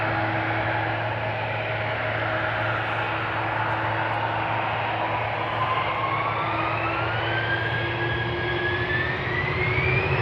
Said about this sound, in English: gonna Embraer 175 up next